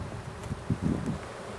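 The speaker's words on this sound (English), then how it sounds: "Bees are getting on the top, fanning." A soft, steady drone of honeybees fanning on top of an open hive, with a few swelling bursts, close by, with no voices.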